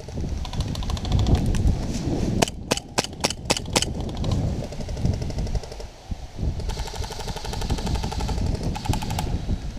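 Bursts of airsoft gunfire during an outdoor skirmish, with a rapid string of sharp cracks in the middle and steady wind and rustling noise throughout.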